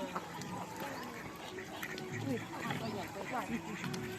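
Ducks quack intermittently amid a busy outdoor background by a stream, the calls moderately close but fairly soft.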